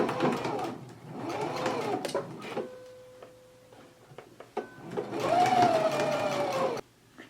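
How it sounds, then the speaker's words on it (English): A sewing machine stitches darts at the end of a jacket pocket, a close mechanical whirring run that stops briefly and then starts up again, with a faint voice in the background. "let's go ahead and stitch the darts on the end of our pocket and do it for both of your pockets"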